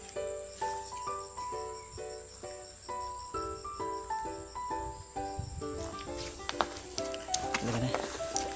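Insects trill and chirp outdoors among cactus plants, overlapping repeated tonal calls of varying pitch, moderately near, with rustling and handling noise building toward the end.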